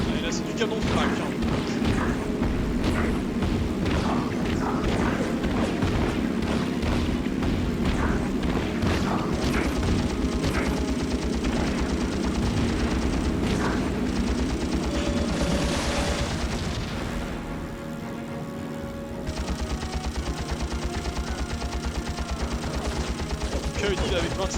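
Rapid bursts of anti-aircraft flak gunfire and dull cannon booms pound continuously in the PS2 game Heroes of the Pacific, with a brief lull near the end; a voice speaks over it.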